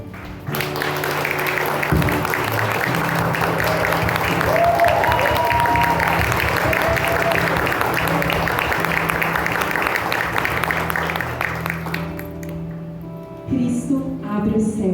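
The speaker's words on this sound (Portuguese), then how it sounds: "Aplauda isso." Sustained applause from a church congregation fills the space, steady and loud for about twelve seconds before thinning out, with a low organ or keyboard tone held underneath.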